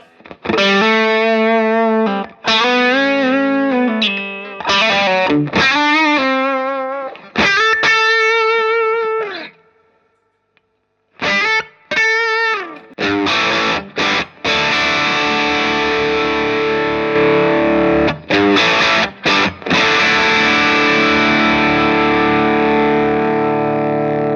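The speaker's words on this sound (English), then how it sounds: "with all three on, I have that higher gain sound, but basically a solo boost with the Ascent on at the end" Electric guitar through three gain pedals stacked for a higher-gain tone, with an Ascent boost pedal kicking in as a solo boost. Loud, distorted chords and sustained notes ring out in bursts, with a short silence midway before a thicker, saturated passage.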